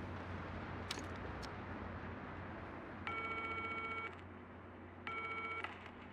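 An in-game telephone in the horror game Still Wakes the Deep rings in two steady electronic bursts, each about a second long, over a low humming background, with a couple of faint clicks before the first ring.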